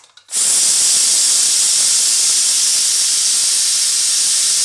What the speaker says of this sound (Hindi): किसी चीज़ को लेके इसकी ऐसा ऐसा हम गैस निकालेंगे।